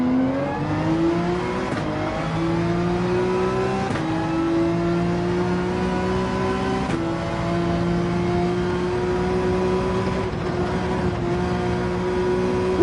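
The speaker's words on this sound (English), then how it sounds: "some car here passing us." A race car in Gran Turismo 7, a Ferrari 458 in livery, passes during a lap: a steady, sustained engine drone with gently rising pitch over about thirteen seconds, fairly loud and alone without talk.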